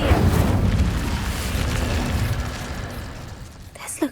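A fire spell erupts in the wizarding game Hogwarts Legacy: a loud whooshing burst that peaks at the start and then fades away over several seconds, ending in a small sharp pop.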